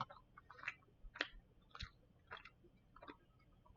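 Chewing on a hard Puerto Rican sesame coconut sweet: close, soft crunching bites in an irregular rhythm of about seven or eight short bursts, quiet and alone.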